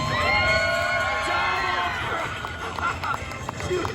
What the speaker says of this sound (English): Come on, let's cheer these guys on.